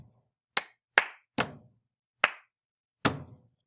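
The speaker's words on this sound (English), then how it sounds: "Pat, clap, clap, pat, clap, pat, clap, clap," Body percussion of pats and claps is heard as five sharp, dry hits in an uneven rhythm, close and distinct against silence.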